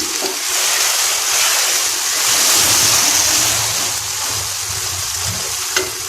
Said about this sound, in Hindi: हमने काटी हुई चीज़ें इनको अच्छे तरीके से भून के